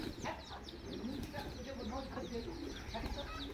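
Chickens cluck faintly amid a busy outdoor bird chorus at a village home, with indistinct voices in the background.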